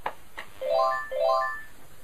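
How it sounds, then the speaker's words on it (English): A Panasonic KX-TG2511 cordless phone handset rings when paged by the base's phone-finder button: a couple of soft clicks, then two rising, warbling electronic ring bursts, moderately loud and close, with no one talking. "And it starts ringing the phone, so you can go and find your phone."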